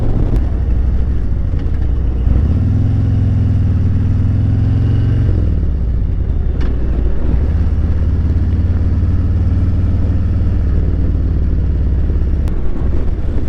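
A 2021 Harley-Davidson Road Glide Special motorcycle with a Stage 2 upgrade runs steadily while riding, rising in pitch as it accelerates, with a constant loud drone and some road clatter throughout.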